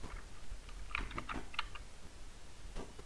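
Password being typed on a computer keyboard, a short cluster of soft, quiet key clicks in the first second and a half, then a pause and one more tap near the end.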